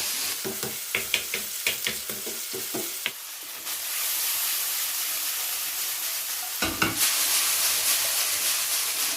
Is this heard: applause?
no